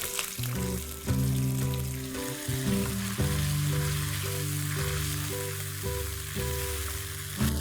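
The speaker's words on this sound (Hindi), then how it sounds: "टमाटर को सॉफ्ट होने तक हमें इसे पकाना है।" Chopped tomato, green chillies and curry leaves frying in a pan for trevti dal, a bright crackling sizzle with a few stirring knocks, close and without speech; a faint steady tonal hum runs underneath.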